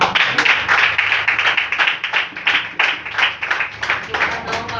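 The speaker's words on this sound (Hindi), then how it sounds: "एक बार जोरदार ताली।" Church congregation giving a loud round of clapping during a Hindi sermon, dense rhythmic hand claps with surges and dips in intensity, filling the whole stretch.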